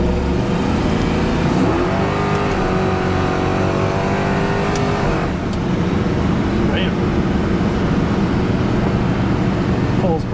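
A 1969 Plymouth Road Runner muscle car pulls hard under acceleration, its loud V8 roar climbing in pitch through the gear, heard from inside while cruising. Voices talk over the engine.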